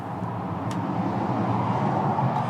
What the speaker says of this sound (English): And those cars sound loud to me